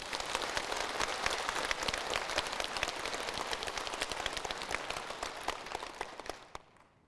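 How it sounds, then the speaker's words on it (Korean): A church revival audience applauds a Korean pastor's lecture, dense steady clapping from a large crowd that holds strong for most of the stretch, then thins and fades out near the end. "박수."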